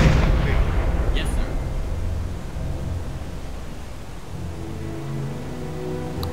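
A submarine deck gun fires in the naval video game Silent Hunter 4, opening with a loud, heavy boom that rolls off into a long, rumbling decay over low mechanical hum.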